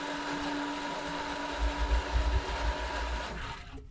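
A water pump, just lifted out of its pit, runs with a low, steady motor hum and faint whine, quiet and continuous with a slight rumble partway through.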